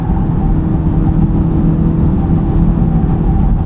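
A Honda Civic Type R FL5 running a COBB Accessport 93 tune pulls hard on a highway from 5,000 RPM, a loud, steady engine drone with heavy road roar and no talking.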